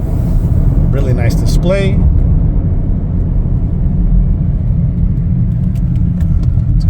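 A 2024 Chevrolet Equinox LT on the move, a steady low cabin rumble of engine and road noise throughout, with someone briefly talking over it.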